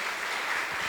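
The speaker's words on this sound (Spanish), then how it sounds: "démosle un fuerte aplauso al Señor" Congregation applauding the Lord at an evangelical Spanish-language church service, a steady dense wash of clapping filling the whole moment without voices.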